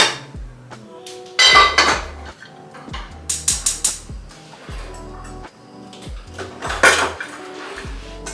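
Metal pan and utensil clatter while asparagus and sockeye salmon are cooked in a kitchen pan, with repeated clinks, scrapes and knocks in irregular bursts, some loud and close, without talk.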